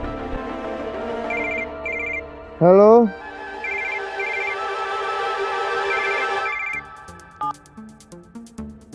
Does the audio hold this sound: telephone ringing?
yes